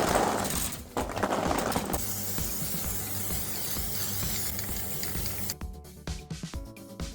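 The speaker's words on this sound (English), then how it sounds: "let's crack on with spraying these cross ties so I can do a nice gold and white track" A spray paint can hisses in long, continuous bursts close by, spraying the cross ties of a model roller coaster track, followed by a few short clicks and rattles.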